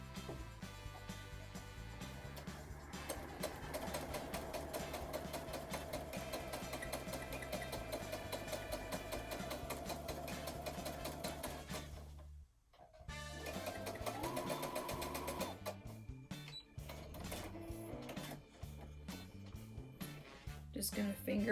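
A sewing machine runs steadily while stitching a quarter-inch seam on quilt squares, a continuous close mechanical whir that briefly stops near the middle and then resumes with short start-stop bursts.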